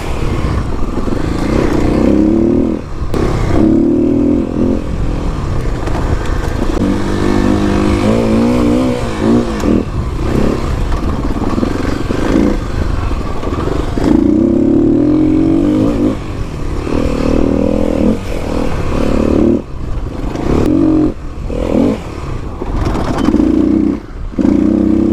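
A 2021 Kawasaki KLX300 dirt bike revving off road, its engine loud and close throughout with repeated rising and falling throttle bursts and some clattery mechanical noise.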